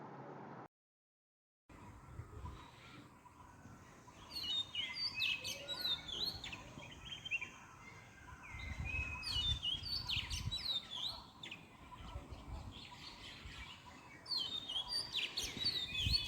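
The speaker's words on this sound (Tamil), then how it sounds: "பறவைகளோட சத்தம்," Several birds chirp and tweet in quick, overlapping bursts against a soft outdoor hum in the hills of Yercaud, fairly close and steady throughout.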